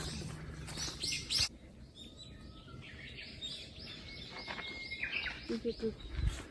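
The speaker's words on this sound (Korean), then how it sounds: "새들이 새소리가 너무 듣기 좋아." Birds chirp and sing repeatedly in a protected Jeju forest, their calls faint to moderate against a quiet woodland background, with people talking softly nearby.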